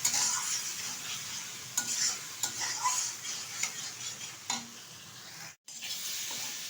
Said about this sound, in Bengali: বেশ কিছুক্ষণ কষিয়ে নেব আলুটার সাথে মশলাটা।